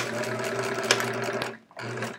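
A sewing machine stitching a quilt border, a fast steady mechanical whir with a rattle of the needle, briefly stopping and restarting as it back-tacks, close and fairly loud.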